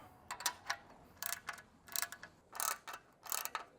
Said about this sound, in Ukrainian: як в моєму випадку, універсальний ключ та головку на 10 з тріщіткою